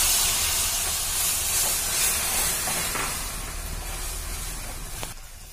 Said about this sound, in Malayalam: ഇനി നമ്മൾ നേരത്തെ തയ്യാറാക്കി വെച്ചിരിക്കുന്ന നമ്മുടെ ഇഞ്ചി നീര് ഇതിലേക്ക് നമുക്ക് ചേർത്ത് കൊടുക്കാം കേട്ടോ.